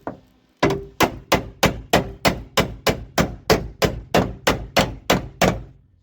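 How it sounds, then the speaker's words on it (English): Repeated hammer blows hit sheet metal on a Z28 floor pan being fitted and tacked for welding, about sixteen sharp, ringing strikes in an even, steady rhythm at close range. "Then you continue hammering."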